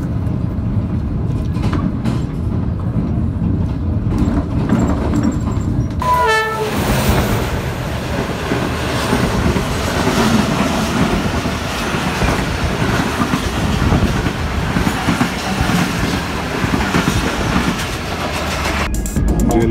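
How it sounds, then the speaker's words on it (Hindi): Tezgam Express passenger train rolling over rails near Jhelum, a loud continuous rumble and clatter of wheels with a horn blast sounding partway through, heard from on board with no talk. "7 अप हमारी ट्रेन है तेज़गाम एक्सप्रेस।"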